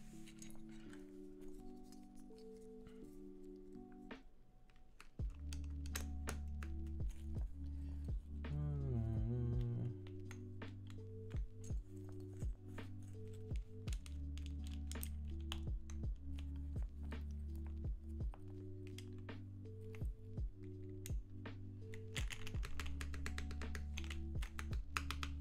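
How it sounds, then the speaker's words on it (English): Keycaps are pressed onto a Mode Eighty TKL mechanical keyboard, one after another. The crisp taps and clicks fall in an irregular rhythm, up close, over a steady background hum, with a brief rising whine partway through. "Let's go ahead and just put in the bottom row while I have these keycaps off to the side here."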